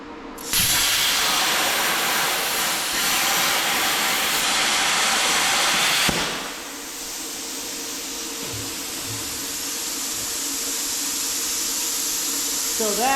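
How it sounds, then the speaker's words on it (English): A bestarc BTC800DP 80-amp plasma cutter cuts quarter-inch steel plate with a loud, steady hissing roar. It starts abruptly, runs for about five seconds and cuts off, leaving a softer hiss and hum behind. "this cut guide and we're gonna cut some steel"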